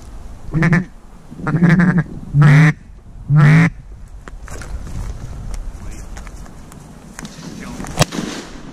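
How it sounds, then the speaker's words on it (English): Widgeon ducks calling during a freeze-up duck hunt, four loud, close whistling-quack bursts in quick succession, then quieter marsh ambience with faint distant calls and a brief sharp crack near the end. "Those are widgeon."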